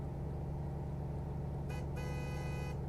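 Ford F-Max truck horn in Truck Simulator Ultimate blares twice in quick succession over a steady droning diesel engine, loud and close.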